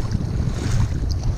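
Wind blows across a shallow-reef beach at Ngalo, Tapalang, Mamuju, making a steady, rough, low rumble of buffeting gusts against the microphone with faint surf beneath it, and no voices.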